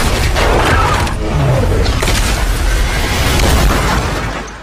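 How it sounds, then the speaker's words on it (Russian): Several heavy booming blasts rumble one after another, loud and close, with a dense roar carrying between them. "На улице несколько взрывов!"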